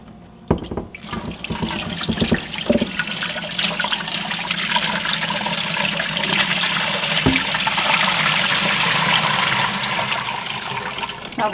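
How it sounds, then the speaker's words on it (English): Water rushes and drains steadily as cucumbers are strained over a sink, a loud continuous splashing flow after a few brief knocks at the start. "we're going to strain our cucumbers and get the jars ready"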